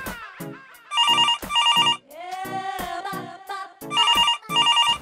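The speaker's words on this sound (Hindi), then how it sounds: "एक तो कोई फोन भी नहीं उठाता।" A telephone rings in a comedy drama scene, its electronic ringtone sounding in repeated bursts with gaps between them, while someone speaks over the middle of the clip.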